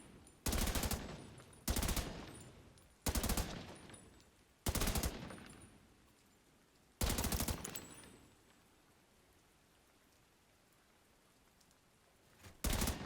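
Loud bursts of automatic gunfire aimed at shooting-range targets in The Division 2, six short volleys with a long quiet stretch before the last one, no voices.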